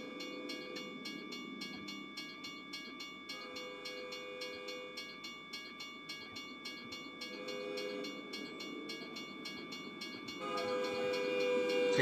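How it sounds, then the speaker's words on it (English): A tank train rolls past a level crossing in Artesia, New Mexico, a steady loud rumble of railcars with rhythmic wheel clatter, its horn sounding as a sustained tone toward the end. "It is another tank train."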